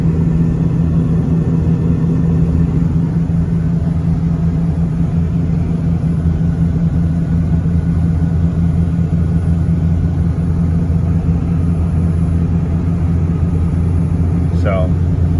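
A 2nd-generation Ram pickup with a Cummins diesel engine tows a 10,000-pound camper trailer on a highway at less than half throttle. It makes a steady, loud, droning rumble from inside the cab that stays constant throughout, with no talk.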